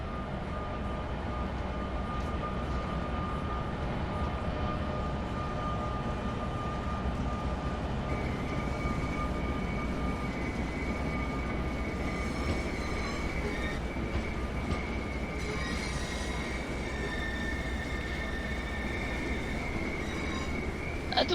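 A train pulling into a platform in Train Sim World on the Northeast Corridor toward Trenton, New York: a steady rumble of the rolling train with a few faint squealing wheel tones, continuous and moderately loud, no voices.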